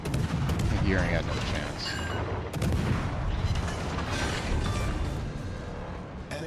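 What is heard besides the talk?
quick-firing ship guns in World of Warships Legends video game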